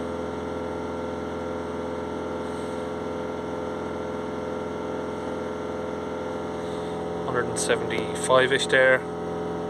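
Peugeot Boxer 2.0 HDi diesel engine with a blocked particle filter held at raised revs, a steady, close drone with a constant whine on top, and a voice briefly speaking over it near the end.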